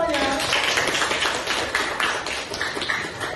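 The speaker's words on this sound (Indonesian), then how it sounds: "Tepuk tangan untuk semuanya." Students in a classroom clap for everyone, a brisk patter of applause from a small group that carries on steadily to the end.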